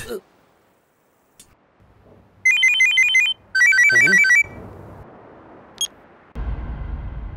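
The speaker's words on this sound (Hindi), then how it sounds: "ए फोन आया रे।" A mobile phone ringtone rings in two loud, bright trilling bursts of rapid repeated electronic tones, close and clear against a quiet background in a Hindi-dubbed action film scene, followed by a low hum.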